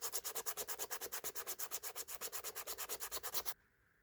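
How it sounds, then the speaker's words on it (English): Shoe heel edge sanded by hand with sandpaper on a handmade blue Oxford, a fast, even rhythm of close rasping strokes, roughly seven per second, that stops abruptly near the end, no voices. "Then I'll start using 40 grit sandpaper and sand over the edges, move up to 150 and finish off with 400 grit sandpaper."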